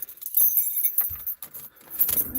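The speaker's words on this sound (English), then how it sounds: "Now I found my keys." A bunch of keys jangles close by in several quick metallic bursts separated by short pauses.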